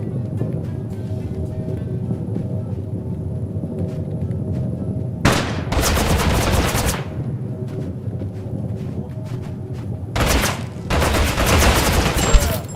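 Gunfire in the Totally Accurate Battlegrounds video game: two loud, dense bursts of rapid shots, a longer volley and then a second one near the end, over a steady low game-noise background.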